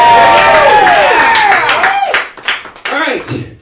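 A late-night studio audience claps and cheers, a loud burst of applause mixed with warbling sweeps that fades after a few seconds.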